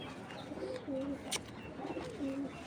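Racing pigeons coo in a few soft, low, repeated phrases at close range, with gentle rustling between calls and no talking.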